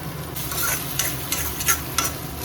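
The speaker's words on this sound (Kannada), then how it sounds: "ಇದು ಮಿಕ್ಸ್ ಮಾಡ್ಕೊಂಡ್ರೆ ಮುಗಿದು ಗೈಸ್" Chili powder and salt being stirred into a drumstick leaf stir-fry in a pan, a soft continuous sizzle with scraping spoon strokes and a few sharper clinks, close and alone with no talking.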